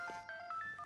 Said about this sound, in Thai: เอ็นี่มือถือฉันดัง